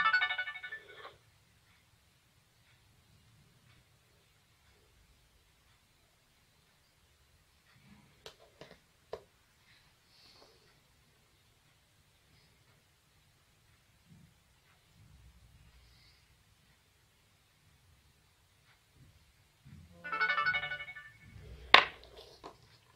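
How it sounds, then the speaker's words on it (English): A phone notification tone from a NodeMCU ESP8266 monitoring app chimes briefly at the start and again near the end, clear and bright against near silence, with a few faint clicks between. "While the application is running in background, still you are informed through a notification message that the value is exceeded"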